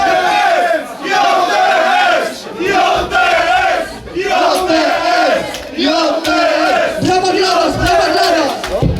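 Crowd at a Polish rap concert marking twenty years of rapping, roaring and shouting in loud repeated surges with short dips between them. A voice on a microphone speaks over the crowd.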